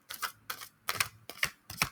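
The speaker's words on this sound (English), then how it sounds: "ASMR of shuffling to the microphone." A tarot card deck is riffle-shuffled close to the microphone, five crisp, papery bursts of fluttering card snaps in a steady rhythm, with no voices.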